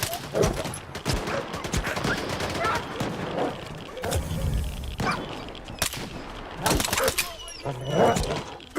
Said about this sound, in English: Are you guys shooting me?